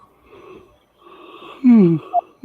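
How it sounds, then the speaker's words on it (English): A person yawns once with a drawn-out, breathy gasp that rises into a voiced, sliding groan, close and fairly loud, after a few seconds of quiet background murmur. "I don't know why I'm yawning."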